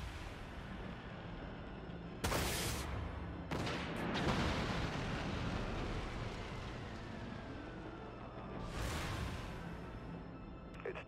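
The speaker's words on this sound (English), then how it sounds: "Now switch to flak turrets and target it again." Flak turrets firing at targets in the video game Dreadnought, a run of sharp loud bursts and booming blasts over a rumbling engine-like drone, with several distinct hits spread across the stretch.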